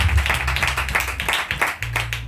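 Church congregation clapping and applauding in a steady patter of many hands, moderately close, with a low hum beneath and a brief lull before the clapping resumes.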